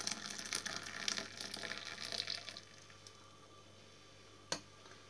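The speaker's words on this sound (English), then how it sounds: "you need to pour it quite gently, you need to pour it slowly" Water poured slowly and gently from a Silvercrest tea maker kettle gives a soft, close trickle for the first few seconds, then fades to near quiet, with one sharp knock near the end.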